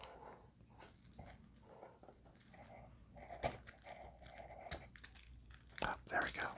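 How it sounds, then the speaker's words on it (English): Shrink wrap crinkles and tears off board game player boards in soft, close rustling bursts, with quiet whispered speech woven through the crackling plastic. "Let's see if we can unwrap this."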